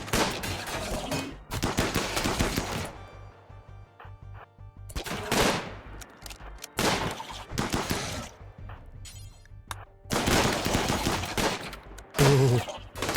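Colonists in the RimWorld video game firing guns in repeated loud, rapid volleys of gunfire, separated by short quiet gaps, close and harsh.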